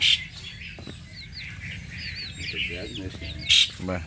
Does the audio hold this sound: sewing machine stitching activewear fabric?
no